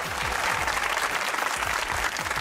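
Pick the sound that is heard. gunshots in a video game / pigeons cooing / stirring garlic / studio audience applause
studio audience applause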